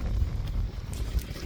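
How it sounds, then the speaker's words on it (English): Strong, stormy wind blowing by the beach and ocean during a storm, a steady low roar of gusts buffeting the microphone with no pauses. "Oh, it's a windy one. Quite stormy still"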